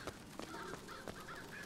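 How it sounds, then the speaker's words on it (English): Several crows caw in the video game Bioshock Infinite, with repeated harsh calls spaced through the moment, fairly faint and with no talking. "My crows, they sing."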